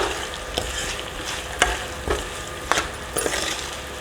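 Potato curry sizzling in a pan as it is stirred after salt goes in, with a steady fry hiss broken by several sharp scrapes and knocks of the spoon against the pan.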